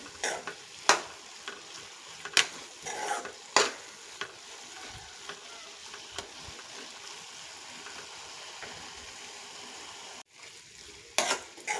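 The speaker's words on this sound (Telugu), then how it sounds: "దీంట్లో కొంచెం ఆయిల్ ఎక్కువగానే పడుతుంది. అడుగంటకుండా కలుపుకోవాలి." Radish curry made with sesame flour is stirred as it fries in plenty of oil in a pan, with a steady hissing sizzle and intermittent sharp scrapes of the spoon, close and clear.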